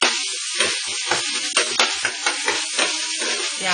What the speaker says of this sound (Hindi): प्याज को सॉफ्ट होने तक पकाएंगे